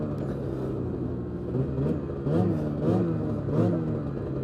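A Ski-Doo full-size snowmobile engine runs nearby with a loud, steady rumbling idle that swells through several revving pulses partway through.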